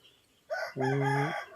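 A rooster crows once, loud and close, a full cock-a-doodle-doo after a short rising lead-in note, from a chicken recovering from illness, with quiet background before it.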